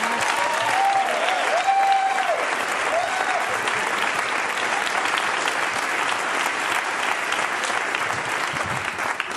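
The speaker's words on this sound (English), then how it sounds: "You cannot keep applauding." A stand-up comedy crowd keeps applauding in a continuous wash of clapping, loud and sustained, with some cheers and brief vocal tones near the start.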